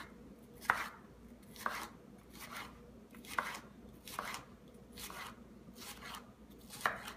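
A knife chops a red pepper into strips on a cutting board, giving about seven crisp, evenly spaced cuts against a quiet kitchen background.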